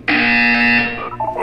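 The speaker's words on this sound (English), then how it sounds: "You will hear a buzzer." Loud, steady electronic buzzer from the video game Portal 2 sounds alone, holding a harsh tone for about a second before cutting off into a brief wavering tail.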